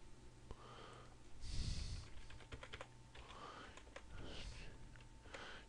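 Soft, rapid keystrokes clatter on a computer keyboard in quick uneven runs, quiet and close, with breathing audible between the taps.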